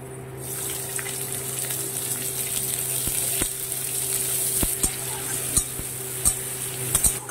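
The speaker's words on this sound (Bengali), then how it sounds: "পেঁয়াজ রসুন এগুলো আমি খুব ভালো করে ভেজে নেব" Chopped onion and garlic fry in a pan with nigella seeds and green chillies, a steady close sizzle broken by repeated sharp spatula taps and scrapes against the pan.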